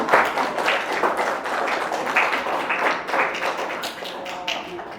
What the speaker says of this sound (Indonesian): Tepuk tangan buat Safia.